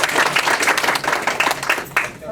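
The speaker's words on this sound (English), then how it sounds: "She deserves a round of applause." An event audience breaks into applause, a dense steady patter of many hands clapping that fills the room and fades off toward the end.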